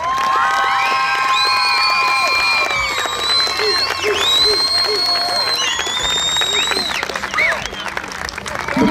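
A large audience cheers and applauds loudly and steadily at an award ceremony, with whoops and shouts rising over continuous clapping throughout.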